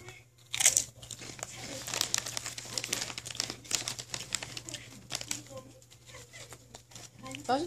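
Honey Butter potato chips crunch and crinkle in a series of loud, close, irregular bites and chews, with the bag rustling, and brief talk mixed in.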